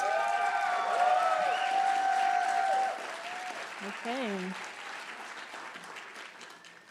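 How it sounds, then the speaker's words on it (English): A large audience at a Dr. Martin Luther King Jr. celebration in Davis claps in a sustained round of applause, loud at first with voices and a brief spoken word rising over it, then thinning and fading toward the end. "Could we get another round of applause, please?"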